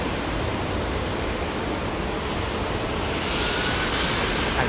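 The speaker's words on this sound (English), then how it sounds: "a constant stream of jets passing overhead" Jet airliners pass overhead near London Heathrow as a steady, broad roar that swells slightly toward the end, with no voices.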